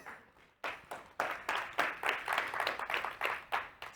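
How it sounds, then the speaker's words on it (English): An audience claps at a business show event in uneven bursts, a sparse start swelling into rhythmic rounds of hands that rise and fall in waves, fairly close and with no talking over it. "Some more applause, please."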